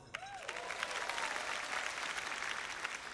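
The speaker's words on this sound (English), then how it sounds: "you're clapping for my kids" Audience clapping fills a school district convocation hall, a steady wash of applause from many hands at moderate distance, with a faint voice briefly rising over it at the start.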